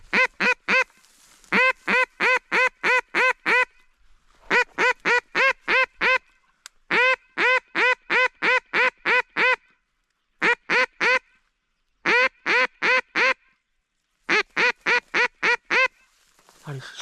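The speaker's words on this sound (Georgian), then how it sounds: "იხვები." Ducks quacking during a duck hunt: loud, close, rhythmic runs of harsh quacks in repeated bursts separated by short silences.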